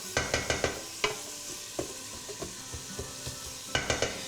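Onion, garlic and carrots cook in a pan, with a soft sizzle under a series of sharp utensil taps and stirring knocks, irregular and close, with no talking.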